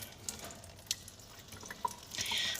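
Water is poured over a 24 karat gold Labubu figure, giving scattered light drips and splashes that build into a brief trickling pour near the end, close by and fairly quiet.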